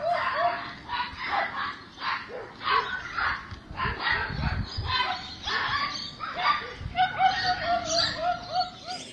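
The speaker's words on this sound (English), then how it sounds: "you can hear the hysterical nature of those three poodles in the last section of the audio" Three poodles barking hysterically at a fence line, a dense run of sharp, overlapping yaps and barks that continues steadily and grows more frantic toward the end.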